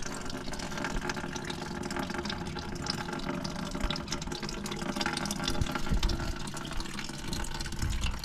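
Coolant pours steadily from a John Deere 8300 tractor, a continuous rushing, splattering flow at close range that holds an even level throughout, with no talking.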